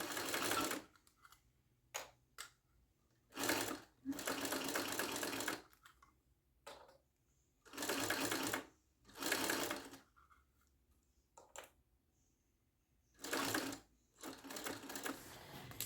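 A sewing machine stitches a backpack in repeated runs of fast, steady whirring, each lasting a second or two, separated by quiet pauses and small handling clicks, close and fairly faint.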